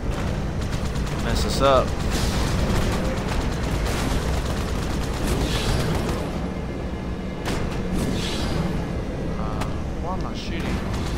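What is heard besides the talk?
gunfire from the video game Halo 2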